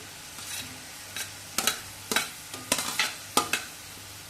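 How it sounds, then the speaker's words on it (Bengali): Ginger and ground spice masala frying with papaya going into the pan: a low background sizzle broken by several sharp, close spatula clacks and scrapes at irregular intervals, no talking. "আদা গুঁড়ো মশলা ভালো করে কষে নিয়ে এর মধ্যে দিয়ে দেবো পেঁপে"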